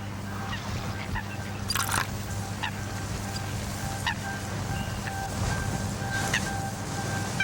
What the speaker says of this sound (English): Coots are among the most common breeding birds on London's waterways.